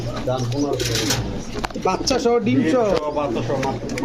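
Pigeons and doves sold with eggs and chicks at a bird market make soft throaty cooing nearby. Someone talks almost continuously over the birds.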